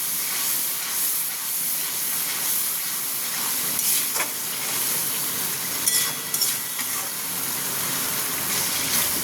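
Cumin and coriander powder frying in a pan for a prawn and taro (kachu) dish, a continuous close sizzle and hiss with occasional scraping stirs, no voices.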